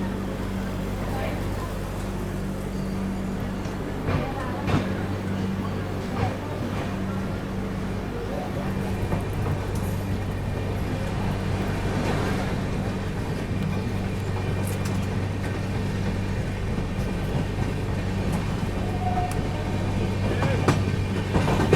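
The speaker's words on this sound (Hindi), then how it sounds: "फिलहाल अपनी गाड़ी जो है दिलदार नगर जंक्शन से डिपार्ट कर रही है।" A passenger train, the 20802 New Delhi–Islampur Magadh Express, pulls out of Dildarnagar Junction, heard from inside as a low continuous rumble and hum with scattered clacks and knocks of the wheels, slowly building in loudness, with faint talk in the background.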